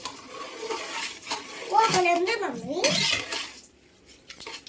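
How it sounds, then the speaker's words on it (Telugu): Biryani rice is stirred in a pot, with scraping and clinking of a spoon against the metal, swelling in the middle as a voice speaks briefly over it, then fading quieter. "అన్నీ యాడ్ చేశాక ఒకసారి మిక్స్ చేసుకోండి"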